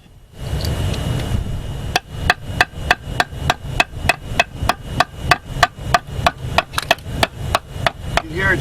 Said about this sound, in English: Just keep doing that until you hear the change in the sound of the block.